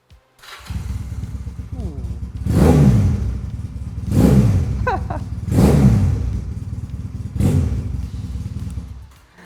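A motorcycle engine starts and idles with a loud throbbing rumble, then revs four times in regular surges, close by.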